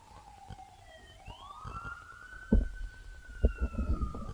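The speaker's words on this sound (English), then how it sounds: "That is a modern day siren." A modern emergency siren wails in Nazareth, Israel, heard at a distance with a long rising and sustained tone, over outdoor ambience and scattered nearby thumps and knocks.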